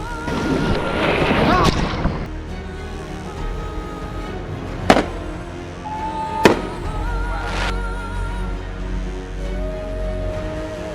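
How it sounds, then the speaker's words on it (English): A few sharp distant bangs like fireworks, spaced several seconds apart, over a rumbling outdoor background with some talking. "somebody started a firework off in the dune"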